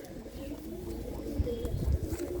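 Pigeons coo softly in a loft in Ludhiana, a low, continuous murmuring with slight rises, faint and steady with no clear talk.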